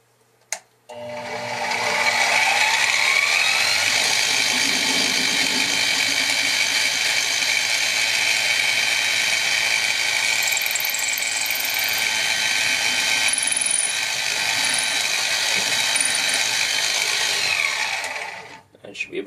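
A drill boring holes through steel for a custom forged Bowie knife, a loud steady whirring grind with a whining tone, running continuously for about seventeen seconds between short pauses at start and end.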